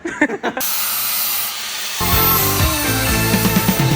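An aerosol can hisses steadily as black paint is sprayed onto the differential of a turbo Camaro SS, a close, continuous spray over a few seconds with brief clatter at the start and music underneath.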